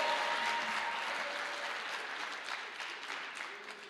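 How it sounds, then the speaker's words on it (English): Audience applause at a film premiere, steady clapping from a large crowd that starts full and gradually thins out over several seconds. "you can give me another round of applause"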